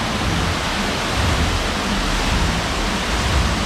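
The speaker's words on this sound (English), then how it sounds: "Beautiful waterfalls in front of the Wynn." Waterfalls in front of the Wynn on the Las Vegas Strip give a loud, steady broadband rush of falling water that stays constant and close, with no voices.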